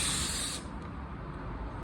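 Spray gun laying a medium wet coat of metallic automotive paint, a steady close hiss that cuts off partway, leaving quieter airy spray and room noise.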